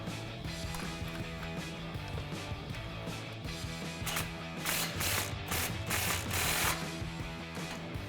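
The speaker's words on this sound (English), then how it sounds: "we'll tighten this clamp down, just snug it down with our 16mm socket" A ratchet fitted with a 16mm socket snugs an exhaust clamp on a RAM 1500 AWE dual exhaust system. Bursts of quick, close clicking come in spurts and get louder toward the end.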